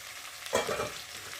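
Spinach and shrimp with ginger paste, cumin paste, green chilli, salt, chilli powder and turmeric fry in a pan, a low steady sizzle with one brief louder stir, close and quiet.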